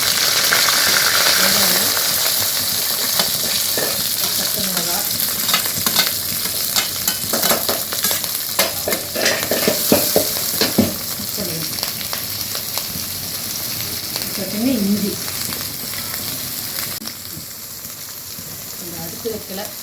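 Mustard seeds, onion, green chilli and curry leaves fry in hot oil, making a steady, close sizzle with bursts of stirring and scraping, and a voice is briefly heard in places.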